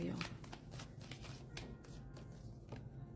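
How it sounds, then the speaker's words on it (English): A deck of tarot cards being shuffled by hand during a reading, a run of quick papery riffles and flicks, close and soft, with a voice present in the background. "I gotta shuffle these cards."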